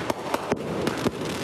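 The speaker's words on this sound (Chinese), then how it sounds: "烟火一发又一发，炸出绚丽火花，也伴随巨大爆炸声响。" Fireworks set off at night during a Mid-Autumn Festival barbecue in Renwu, Kaohsiung: a quick series of sharp, fairly distant bangs bursts out at short, uneven intervals over a low background rumble.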